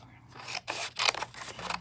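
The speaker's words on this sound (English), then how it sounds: "so now I'm just going to take my scissors and I'm going to cut this out," Scissors make a series of crisp snips and rasping slides as they cut a piece from a sheet of acetate card during card-making, several close cuts in an uneven rhythm with no talking.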